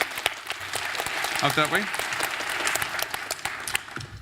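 Audience at an elementary school spelling bee in Calgary clapping steadily for a departing speller, with a brief spoken remark from a voice partway through the applause.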